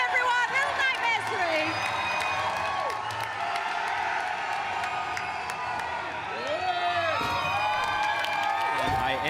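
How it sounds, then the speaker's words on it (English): A large crowd on the Gamescom 2024 show floor cheers and shouts continuously, loud whoops and yells rising and falling, with people talking over it nearby. "I mean, that crowd is going crazy out there."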